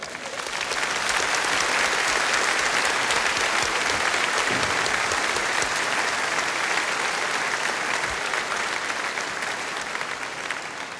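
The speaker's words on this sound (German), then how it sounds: "Ein herzlicher Applaus noch einmal" Enthusiastic studio audience applause at the Musikantenstadl folk music TV show in Passau, a dense, even roar of clapping that continues strongly for over ten seconds.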